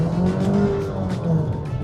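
Mazda CX-60 Sport four-cylinder engine pulls hard from first gear in sport mode, a steady rising drone heard from inside the cabin, loud and continuous without speech.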